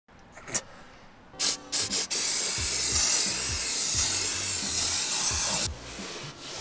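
A car detailing aerosol can gives a few short puffs, then one long continuous hiss of spray up close, stopping abruptly near the end.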